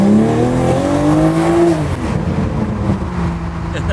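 A stock, worn-out Toyota Supra launches hard, its engine note climbing in rising harmonic sweeps before easing into a rougher, steady drone, loud and close with a voice briefly audible over it.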